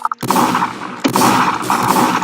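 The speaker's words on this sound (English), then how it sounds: "He's doing double shotgun too." Loud bursts of shotgun fire in the Strucid video game, two dense blasts about a second apart with rumbling noise between them, close and continuous.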